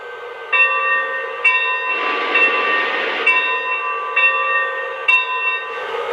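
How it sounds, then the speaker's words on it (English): Bell sound effect from a Lionel Frisco 4-8-4 Northern model steam locomotive, ringing in regular, evenly spaced strikes, loud and close over a steady background hiss. "And here's the bell."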